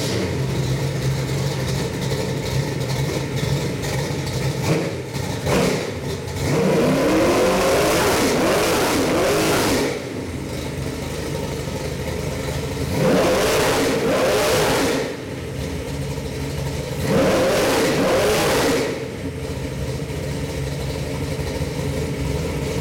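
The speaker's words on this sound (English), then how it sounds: "Let me fire this up and give you a little run demo." A custom crate engine for a Ford Mustang idles with a steady rumble, then revs hard in three loud bursts that each hold for a few seconds before dropping back to idle.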